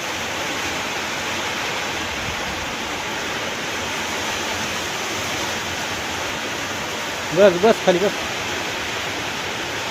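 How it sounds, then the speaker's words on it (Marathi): Steady, dense hiss of rain falling all around, with a few brief voices speaking close by near the end. "आता बी पाऊस आलाय"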